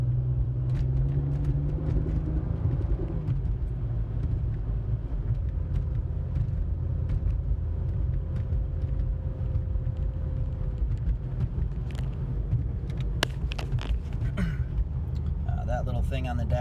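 Inside a car driving quietly: a low, steady road and engine rumble runs throughout, while someone talks over it almost continuously.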